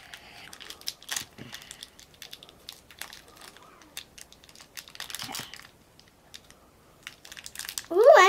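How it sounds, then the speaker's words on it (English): Plastic toy blind bag being opened by hand, with scattered short crinkles and rustles separated by quiet gaps, ending in a louder burst of crinkling plastic. "That's so hard to open without scissors."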